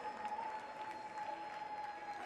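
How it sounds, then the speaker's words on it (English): Faint, distant applause from a crowd at an indoor rowing event at the 2019 Department of Defense Warrior Games, a soft continuous patter over a steady tonal hum, without speech. "How about another round of applause?"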